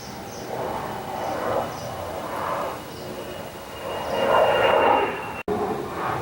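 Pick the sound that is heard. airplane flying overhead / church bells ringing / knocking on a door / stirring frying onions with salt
airplane flying overhead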